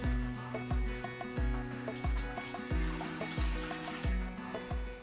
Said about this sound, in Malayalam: അപ്പൊ നമുക്ക് ആദ്യം വെള്ളം ഒഴിക്കാം.